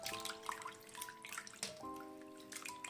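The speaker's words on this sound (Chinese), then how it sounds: "往里面多倒一点清水" Clean water pours into a large basin holding napa cabbage and a spoonful of salt, a close, steady splashing stream lasting a few seconds with no talk.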